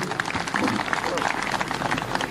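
Audience at a mosque association event applauding to welcome a speaker to the stage, steady mid-distance clapping with voices mixed in underneath.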